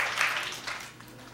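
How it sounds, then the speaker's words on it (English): An audience at a hackathon awards event applauds the Best Innovation App winners with a soft wash of clapping that swells early, then gradually fades over about a second and a half. "big round of applause for Best Innovation App"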